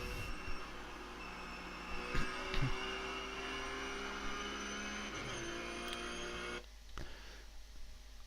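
Ruf C-Spec racing car engine lapping the Zandvoort circuit in iRacing, a sustained droning tone under load that holds steady, then cuts off abruptly near the end, leaving a quieter, rougher rumble.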